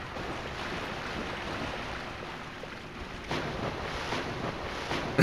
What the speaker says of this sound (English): Listen to the crunchy water.